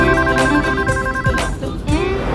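A phone ringtone plays during a scene in a Hindi TV drama, a loud electronic melody with steady tonal notes repeating throughout.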